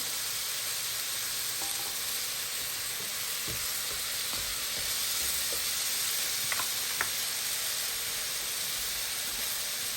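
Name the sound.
apples sizzling in a pan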